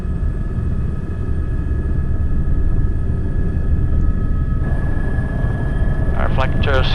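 Steady loud engine and rotor drone inside a Baptist Med Flight medical helicopter near Little Rock, constant throughout, with a tonal whine riding on top and a voice briefly speaking near the end.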